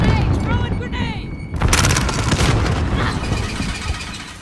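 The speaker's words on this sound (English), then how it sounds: "Throwing grenade!" A grenade detonates in Call of Duty Modern Warfare with a sudden loud, broad blast that rumbles and fades over a couple of seconds, following a stretch of game sounds and a voice.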